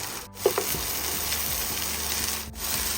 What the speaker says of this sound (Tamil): அப்படியே வதக்கிட்டு பொடியாக நறுக்கி வச்ச பீன்ஸை சேர்த்துக்கணும்